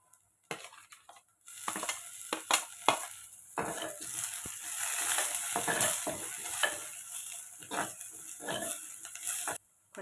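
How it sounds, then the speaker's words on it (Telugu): Green chillies and curry leaves fry in hot oil for a restaurant-style mixed dal, sizzling steadily up close while a utensil stirs and scrapes the pan in repeated bursts. "ఇప్పుడు మనం పచ్చిమిర్చి కూడా వేసుకుందాము. కొంచెం కరివేపాకు, పచ్చిమిర్చి,"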